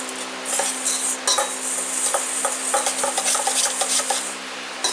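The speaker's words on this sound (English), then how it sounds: "Kind of mix all this together." Pemmican ingredients being stirred and mixed in a bowl, with a steady run of scraping and clinking utensil sounds that are close and moderately loud, and no talking.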